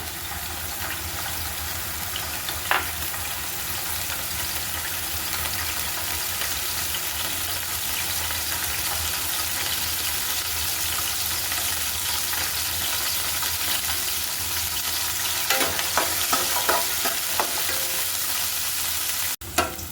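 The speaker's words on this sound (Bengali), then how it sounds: "আদা কুচি হালকা ব্রাউন করে ভেজে নিব" Chopped ginger and garlic fry in oil with a broad, steady sizzle that runs on for about twenty seconds, close and fairly loud, with a few brief clinks and scrapes near the start and end and no speech.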